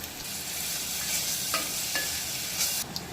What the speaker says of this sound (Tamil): இப்போ எண்ணெய் வெங்காயம் பொன்னிறம் வர வரைக்கும் நல்லா வதக்கிக்கலாம்